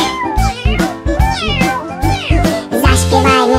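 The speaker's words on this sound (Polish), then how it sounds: "Słychać miał, mały kotek miał" A kitten meows loudly and close up, giving a quick string of high, drawn-out meows one after another with short gaps between them.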